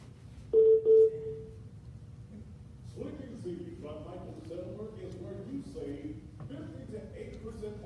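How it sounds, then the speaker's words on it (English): Two short electronic beeps from a phone's call waiting sound early on, close and clear. Talking follows over a phone line. "That beeping noise, that call waiting."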